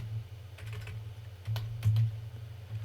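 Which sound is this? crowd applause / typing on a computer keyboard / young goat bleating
typing on a computer keyboard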